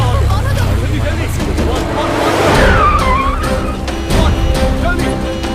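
A car speeds away fast, its tires skidding and squealing loudly for several seconds as the engine roars. Shouting voices break in over the noise.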